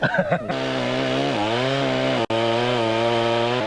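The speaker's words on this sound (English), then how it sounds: "Andy, this is your one concession to modern technology, this chainsaw?" A chainsaw runs close and loud cutting a tree in Tasmania, with a steady buzzing engine whine, its pitch dipping briefly as it bites, then holding level.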